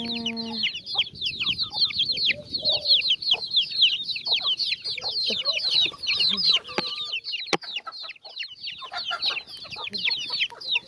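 Bangkok chickens cluck and chatter continuously near and far, with dense high chirping calls over soft background rustle across the whole stretch.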